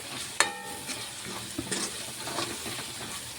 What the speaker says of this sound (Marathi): ते आता छान भाजत पण आलं बघा